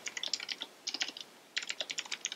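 Rapid keystrokes on a computer keyboard while code is entered in a Laravel programming tutorial, clicking in three quick bursts with short pauses between, close and fairly quiet with no talking.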